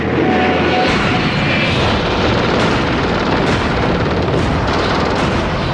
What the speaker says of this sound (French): l'aviation israélienne décolle en direction du Caire